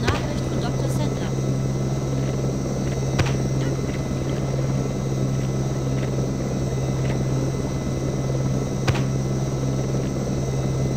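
A steady helicopter rotor drone from the video game Jurassic Park: Operation Genesis, with a low, constant hum throughout and a few faint clicks on top.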